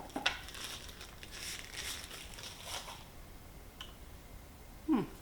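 Plastic bag around a Ulanzi Vijim VL196 video light crinkling during unboxing, quiet intermittent rustles and crackles close by with a slightly louder crunch at the end.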